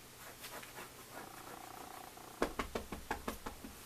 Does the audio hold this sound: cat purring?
yes